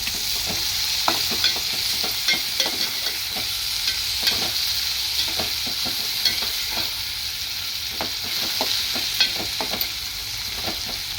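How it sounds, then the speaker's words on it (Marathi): Tomatoes frying in a hot pan with curry leaves in oil for a spicy curry, loud continuous sizzling with frequent scraping clicks of a spoon stirring throughout. "मग टाकूया टोमॅटो टोमॅटोला पाच मिनटं चांगले शिजूया"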